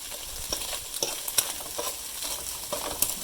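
Turkey and onion fry in butter in a pan, giving a crackling sizzle with soft pops and repeated stirring scrapes at close range and no voices.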